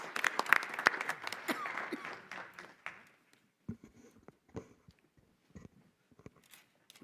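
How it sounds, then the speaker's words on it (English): Audience applause for two students at a school board meeting, a burst of clapping that fades out after about three seconds, followed by scattered faint knocks and shuffles in a quiet room. "Another round of applause for our two students."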